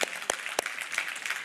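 Church congregation clapping, a short, fairly quiet patter with a few distinct sharp claps standing out over a soft background of applause.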